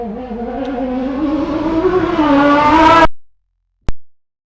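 A Nissan race car with a VQ35 engine and four-wheel drive climbs through a loud, rising engine drone on bitumen for about three seconds, then cuts off abruptly, followed by one short sharp click.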